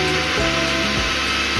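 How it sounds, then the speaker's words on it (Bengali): Kitchen mixer grinder running with sugar in its jar, a steady dense whir close by with low rumbling and brief surges as the sugar is ground, continuous throughout. "আমি এইভাবে মিক্সি চালিয়ে নেব"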